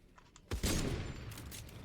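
Gunfire in the video game Fortnite during a one-on-one match: a sudden loud burst at about half a second, followed by sustained crackling shots and echoing reports that trail on to the end, with no talk.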